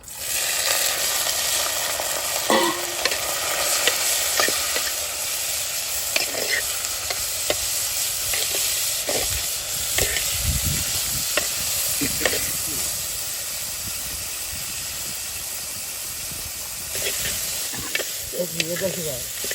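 Dried anchovies sizzle and hiss steadily in a hot pan while a spoon stirs and scrapes through them, with intermittent clinks and knocks and a few soft voices underneath.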